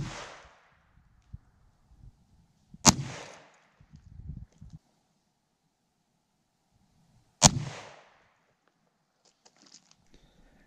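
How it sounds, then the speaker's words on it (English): Two sharp rimfire rifle shots, .17 HMR or .22 WMR, fired into a ballistic gel block outdoors, each a loud crack with a short decaying tail, spaced several seconds apart, with faint handling noises between. "let's take two more shots in it and find out"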